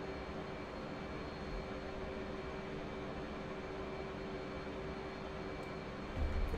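Steady, unbroken engine roar from an F/A-18C Hornet fighter jet in flight in the DCS combat flight simulator, broadband and constant throughout with no talk over it.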